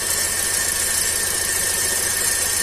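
Car engine idling with a cylinder misfire, the running sound steady and continuous with a high squealing tone over a low rumble, heard close up with the hood open.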